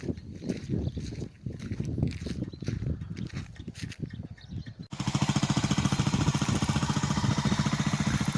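A Keeway 250 motorcycle with a rebuilt engine and bored cylinders idles loudly and close in a fast, even, rattling pulse that starts abruptly midway, after a stretch of irregular clattering knocks.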